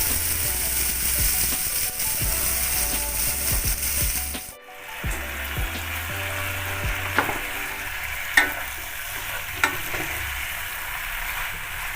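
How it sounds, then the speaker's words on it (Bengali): Ridge gourd stir-fries in a pan of vegetables. A loud sizzle runs under regular scraping stirs, briefly cuts out near the middle, then resumes softer with sharp metallic clinks. "এতে আমি ঝিঙেটা দিয়ে দিলাম"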